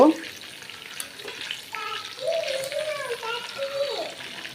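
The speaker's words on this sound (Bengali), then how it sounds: "মুরগির মাংসগুলো ভাজা বসায় দিছি, তো ওইখানে অর্ধেক ভাজা হয়ে গেছে, আর একটু ভালো করে ভেজে নেব।" Chicken pieces frying in a pan make a continuous sizzle with stirring scrapes and a faint watery hiss, while a voice speaks faintly in the background.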